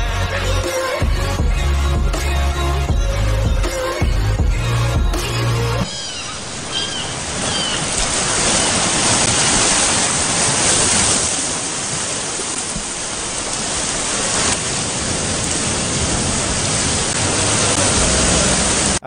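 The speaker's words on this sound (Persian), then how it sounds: "اول آهنگ صدا مرغ دریایی بود،" At the start of a song, sea waves wash in as a broad, steady roar, and faint seagull cries sit over a brief musical opening before the surf noise takes over and carries on alone.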